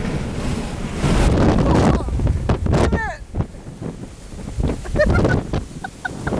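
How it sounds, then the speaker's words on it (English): A strong gust of wind roars and buffets, loud and rushing at first, strong enough to stall a vehicle, then eases as someone talks excitedly over the gusty bluster. "that's a big gust."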